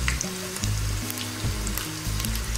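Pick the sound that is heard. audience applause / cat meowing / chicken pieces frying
chicken pieces frying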